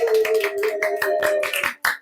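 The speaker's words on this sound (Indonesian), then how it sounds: "Tepuk tangan terlebih dahulu" Steady rhythmic hand clapping, roughly eight sharp claps in even beats over a sustained humming tone.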